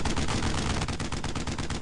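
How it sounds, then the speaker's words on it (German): Dense rapid gunfire from the World War II shooter Brothers in Arms: Road to Hill 30, a loud continuous burst of overlapping shots with no gaps, close and filling the whole moment. "Und jetzt ein Schuss."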